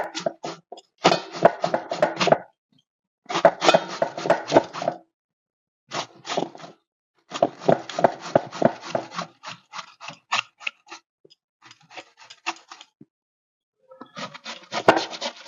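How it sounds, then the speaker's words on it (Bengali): Potatoes are pushed across a chips slicer in rapid bursts of crisp, scraping cuts, each run of quick rhythmic strokes separated by short pauses, close and fairly loud. "এইভাবে আলুগুলো সব কুচিয়ে নেবো।"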